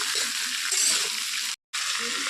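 Green chilies and karamcha fruit fried in oil in a pan for karamcha pickle: a loud, hissing sizzle fills the whole stretch, broken by one brief dead-silent gap.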